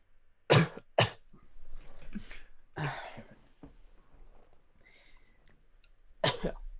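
Several loud, harsh coughs up close, a pair of quick bursts, another fit after a pause, then one more hack near the end.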